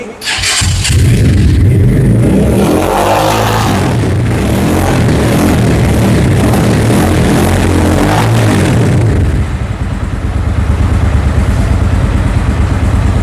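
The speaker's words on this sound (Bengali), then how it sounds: "চট্টগ্রামে তো আমরা বাইকের সাউন্ডটা শুনি" A GTXL v4 L.E Duel ABS sports motorcycle engine runs loud and close, a continuous rough rumble that swells and holds before settling into a lower, steadier idle near the end.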